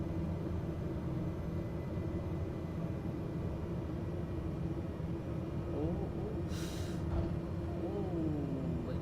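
A Cessna Caravan 208 turboprop in a flight simulator drones steadily on landing, with a brief rushing burst near the end as the thrust reversers engage.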